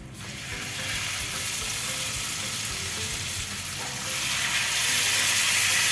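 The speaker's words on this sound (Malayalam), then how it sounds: "ഇതിലേക്ക് ഞാൻ നമ്മൾ ഇന്നലെ മാരിനേറ്റ് ചെയ്ത് വെച്ച ചിക്കൻ്റെ പീസ് വെക്കുകയാണ്" Marinated chicken pieces for tandoori, laid into a hot pan on a high flame, sizzle in continuous hot oil, and the crackle swells louder and brighter partway through; no voices.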